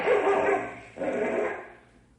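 A dog barks and yips in two loud, close bursts with a short gap between while fighting a rattlesnake in an old-time radio drama, with no talk over it.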